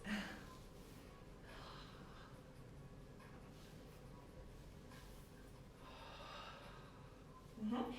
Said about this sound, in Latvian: Un elpojiet tā, lai jūs sevi dzirdat.